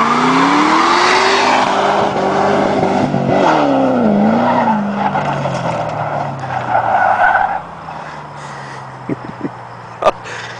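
Ford Shelby GT500 doing a burnout, with a loud revving engine and a sustained tire squeal that bends in pitch before easing off into quieter idling.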